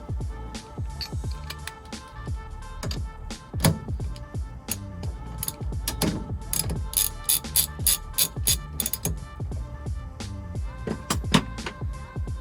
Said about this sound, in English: take off this bolt, which I believe is a 16mm